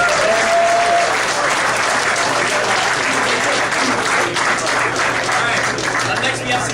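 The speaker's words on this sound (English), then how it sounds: "let's give our guests another round of applause" A crowd gives guests a sustained round of applause at a cadet leadership event. The clapping is dense and steady and fills the whole stretch at full strength.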